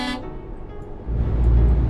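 A truck horn in Euro Truck Simulator 2 gives one short, loud toot, followed by the low rumble of the truck's engine.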